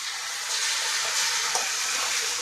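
Tomato puree sizzling in hot oil with spices for a Marathi methi bhaji gravy, a steady broadband hiss with a few crackling bursts, close and continuous throughout without talk.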